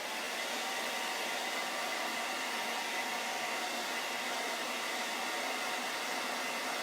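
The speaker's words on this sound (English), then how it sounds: "I'm going to get out my hair dryer and use a little bit of heat" A hair dryer blows steadily and evenly for several seconds, a constant airy roar up close with no pauses or talking.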